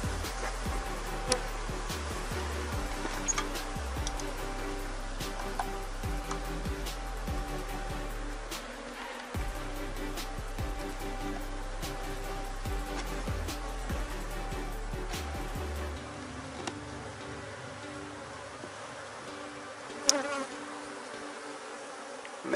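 Honeybees at an opened beehive give off a steady, dense buzzing drone that fills the whole stretch, with occasional nearer passes of individual bees and no one speaking.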